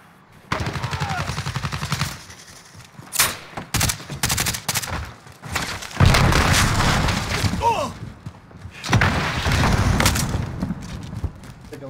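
Loud, close bursts of automatic gunfire from a Modern Warfare match come in repeated volleys with short gaps between them, mixed with heavy booming shots and faint talk underneath.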